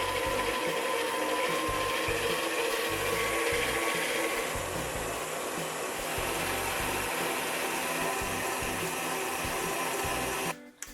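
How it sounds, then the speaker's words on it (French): An electric mixer whips cream in a bowl at medium speed, giving a continuous, fairly loud whirring drone that runs steadily before cutting off abruptly at the end. "Je verse la crème dans la cuve et je commence à monter à vitesse moyenne pour commencer."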